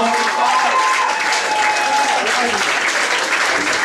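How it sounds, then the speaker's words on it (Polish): Club audience at a Polish live gig applauding a guest musician, dense continuous clapping and crowd noise filling the whole stretch at a loud, steady level. "Brawa!"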